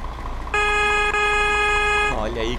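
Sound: truck horn in a truck simulator video game

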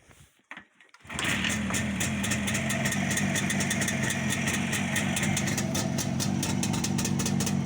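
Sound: motorcycle engine idling

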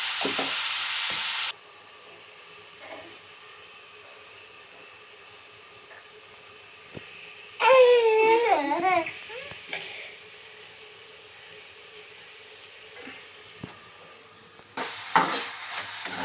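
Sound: stirring onions frying in a pan

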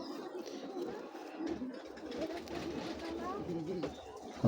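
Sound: female racing pigeon cooing

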